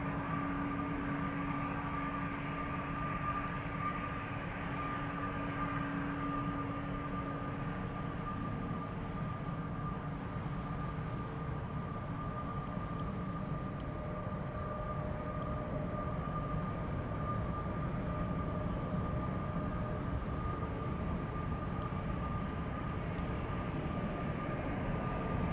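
A twenty-year-old Boeing 777-200ER at Schiphol gives off a steady low jet rumble with faint tonal whines drifting in pitch, moderately quiet and unbroken, with no talking.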